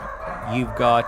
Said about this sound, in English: My little wiener dogs are guarding the door over there. You can hear them barking.